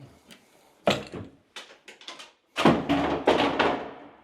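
A bathroom cabinet door in a farmhouse bathroom bangs repeatedly, a string of close, sharp wooden thuds and knocks in uneven bursts, with no talking.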